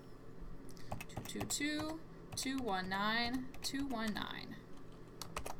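Clicky computer keyboard keys are tapped in quick bursts while a person speaks over them, the typing close and fairly crisp.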